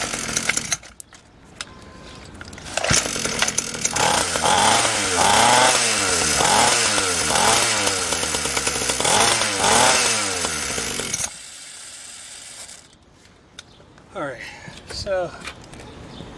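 A SYX Moto dirt bike engine running on a bad fuel mix revs roughly and unevenly up close, rising and falling, then cuts out and sputters briefly back, with people talking nearby.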